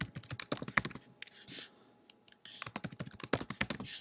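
Rapid, uneven keystrokes on a computer keyboard as a new password is typed, close and fairly quiet, in two bursts separated by a short pause.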